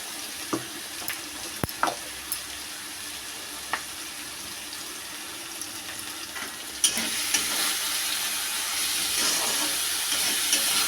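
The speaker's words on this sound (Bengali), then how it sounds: "একটু ভালো করে ভাজা ভাজা করে নেব।" Fish curry with green chillies, mustard and ginger frying in a pan, a steady low sizzle with occasional stirring clacks that swells into a louder, hissing fry in the last few seconds.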